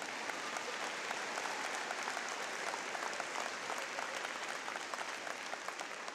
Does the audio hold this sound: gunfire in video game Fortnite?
no